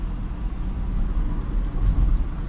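Continuous low engine rumble and road noise from inside a Nissan Cefiro V6 sedan being driven smoothly on the road, steady and fairly loud with no talking.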